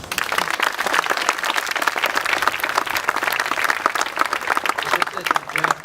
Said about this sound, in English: please join me in extending a warm welcome and a great round of applause.